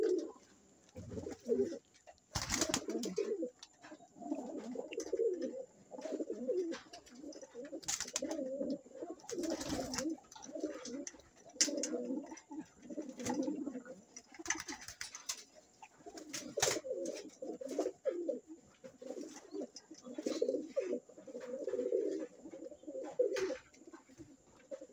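Pigeons coo continuously nearby during night feeding, in overlapping low, throaty phrases, with occasional rustles and knocks mixed in; no one speaks.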